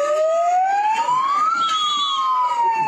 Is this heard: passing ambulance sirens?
yes